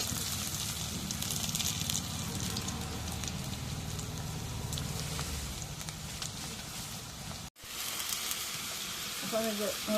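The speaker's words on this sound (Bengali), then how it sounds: "এখন কড়াই গরম হয়েছে, পেঁয়াজ দিচ্ছি," Onions sizzle in hot oil in a heated pan, giving a steady crackling hiss that runs through the clip with a brief dropout, while a voice talks faintly over it.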